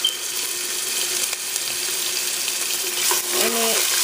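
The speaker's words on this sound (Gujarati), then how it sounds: "I'm just going to let it fry just a little bit to get out all the flavors from our herbs." Herbs frying in oil for Khoja biryani give a steady, close hiss that runs the whole time, with a brief clink of stirring near the end.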